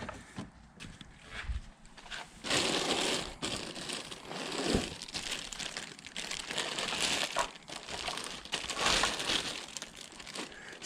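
Protective plastic film is peeled back from a car tail light on a Miata, giving close, irregular crinkling and crackling bursts at moderate volume with no talking.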